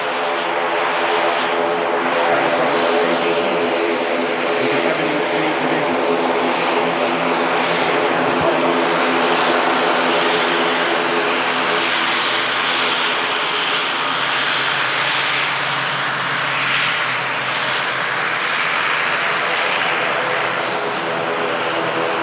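A propeller aircraft's engine drones steadily and loudly at Manchester Airport in thick fog, a continuous broad roar with a faint voice underneath.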